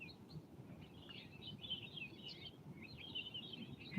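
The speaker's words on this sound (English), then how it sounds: "Let's just sit and listen to the birds a little bit" Birds sing outdoors at sunrise, faint and fairly distant, with repeated high chirps and trills recurring through the stretch over a low background hum.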